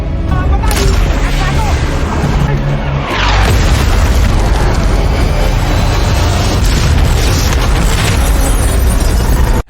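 A missile explosion in an action film, a loud sustained roaring blast with debris and rumble filling the whole stretch, dense and close with no clear pauses.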